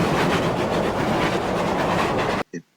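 A train runs steadily along a railway line, a loud continuous rumble with rhythmic clickety-clack of wheels that cuts off abruptly near the end, followed by a brief separate sound.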